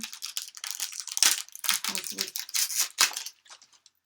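Plastic packaging from Prima Marketing Havana scrapbooking embellishments crinkles loudly and close up in quick bursts of bright rustling for about three seconds, then falls quiet with a few faint rustles.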